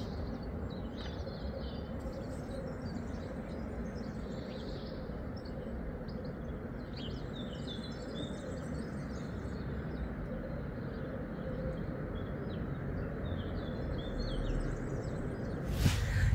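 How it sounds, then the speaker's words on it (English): Morning birds chirp and call outdoors in Mallorca, their faint high tweets scattered over a steady low rumble of background noise throughout. "what I want to highlight is the morning bird sounds"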